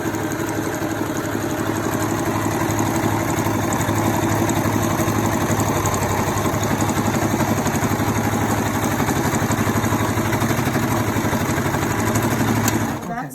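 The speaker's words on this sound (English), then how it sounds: "Just go ahead and sew it all the way down so that your strap doesn't just shred whenever you wash it." A sewing machine runs continuously as it stitches down a fabric face-mask strap, making a dense, loud, rapid mechanical whir and chatter that keeps a steady rhythm before stopping abruptly at the end.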